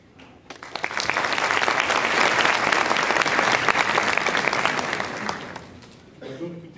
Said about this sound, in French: Un grand succès de foule, un auditoire magnifique qui applaudit même avant qu'on ait parlé.